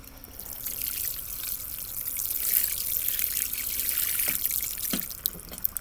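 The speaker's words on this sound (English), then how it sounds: "going to water one more time" Water trickles and splashes steadily over a bed of freshly sown fall garden seeds, a soft continuous pour with a few brief drips near the end, with no talking.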